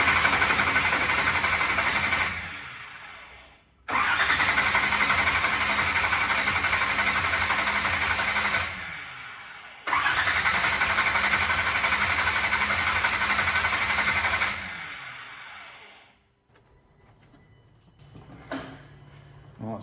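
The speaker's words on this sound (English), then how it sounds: "now I'm gonna crank it over to build oil pressure up" A 10L supercharged big block engine in a monster truck cranks over on the starter in three long, loud whirring bursts separated by brief pauses, ending in quieter shop noise.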